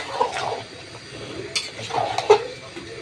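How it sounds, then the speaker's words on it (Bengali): Beef being stirred with spices in a pot: sparse scraping and clinking of a spoon against the metal over a soft sizzle, fairly close. "মাংসটা ভালো করে নেড়ে মশলার সাথে মিশিয়ে দিতে হবে, কষতে হবে ভালো করে"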